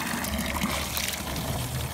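Water runs continuously from a roadside tap in central Portugal, a steady broadband splashing and trickling that holds an even level throughout with no pauses.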